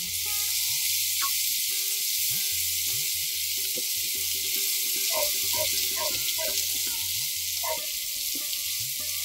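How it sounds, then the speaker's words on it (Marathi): Val beans and snake gourd stir-fry in a hot tempering, a steady bright sizzle with scattered clinks and scraping stirs throughout, close and alone without talk. "हे वाल आणि पडवळ जे आपण कापून घेतलेलं आहे हे या फोडणीमध्ये छान मिक्स करून परतून घ्यायचं"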